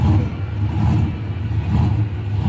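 A doorslammer drag race car at the Blue Oval Battle revs hard and close, its loud, low engine drone rising and falling throughout with a slight mechanical clatter.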